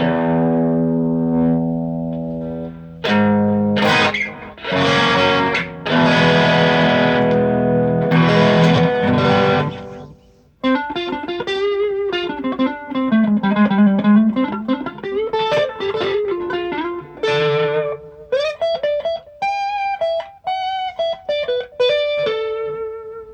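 Distorted electric guitar, a Squier Affinity Telecaster through an amp with distortion set halfway, played loudly, starting with heavy chugging chords and then moving into a gritty, sustained single-note lead line.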